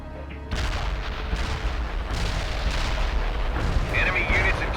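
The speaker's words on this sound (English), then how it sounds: "Artillery barrage inbound." Artillery barrage in a video game: a loud, continuous rumbling roar of blasts and booms that thickens into a dense, heavy wall of explosions.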